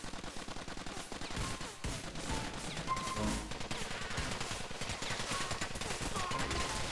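Shotgun blasts fire repeatedly in a GTA IV multiplayer match, a dense string of shots over a busy, noisy backdrop.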